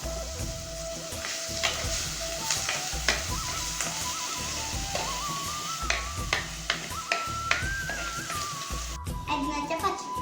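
Crushed spices hit hot oil in a pan for a pearl spot fish curry, making a loud, sustained sizzle with repeated clicks and clanks of stirring, while a voice and a melodic background tune run underneath.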